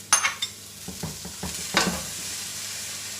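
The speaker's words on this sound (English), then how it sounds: "give it a stir, dig down deep and pick up the cumin seeds there" Cabbage and peas with cumin seeds frying in a pan for a vegetarian Indian meal, with a spoon scraping and stirring in a few quick strokes over a steady close sizzle, no voices.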